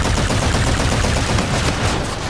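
Rapid, dense bursts of AK-variant rifle fire in a first-person shooter video game, loud and continuous with sharp repeated cracks layered over a busy, noisy battlefield mix.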